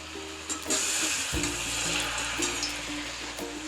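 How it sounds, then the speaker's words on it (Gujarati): Rice flour chakli flavored with mint frying in hot oil over a medium flame, a steady close sizzle and bubbling with a brief splash as pieces drop in. "હવે આપણે ગરમ તેલમાં ચકરી એડ કરતા જઈશું"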